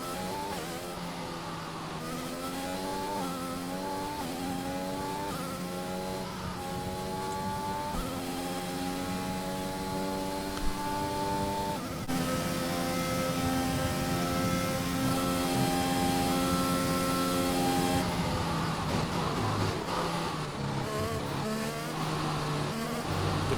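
A Formula 1 race car engine in F1 2021 screams steadily for the whole stretch, its pitch climbing and dropping through gear changes with clear harmonic whine, loud and continuous without talk.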